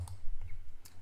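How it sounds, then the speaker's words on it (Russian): Two sharp mouse clicks on a computer while setting up desktop layouts in software, one near the start and one near the end, fairly close and crisp over a quiet low hum. "И в конце кликаем Apply."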